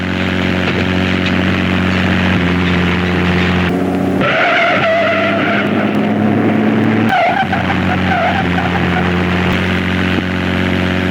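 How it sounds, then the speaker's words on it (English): An RV drives over the Continental Divide toward Banff in the Canadian Rockies, a constant loud road and engine drone with hum and shifting rumble throughout, no talking. "I'm driving really carefully because this is not easy driving."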